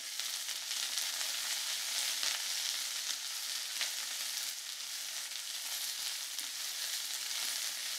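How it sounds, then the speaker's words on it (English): Sliced peppers and onions sizzle in a hot pan while being tossed with tongs, a steady hiss with occasional scraping stirs, close and fairly loud with no voices. "we'll start with our peppers and onions. Just throw them in a pan."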